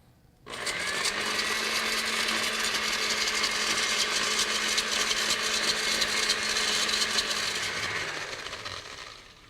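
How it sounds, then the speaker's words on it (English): A kitchen blender whirs steadily at full power for several seconds while olive oil is added, a loud continuous motor drone that starts abruptly and tapers at the end. "We'll turn the blender on"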